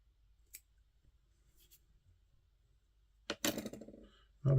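Scissors snip away excess material while a Woolly Bugger fly is being tied, giving a few faint, close clicks and then a sharper cutting burst near the end against otherwise quiet surroundings.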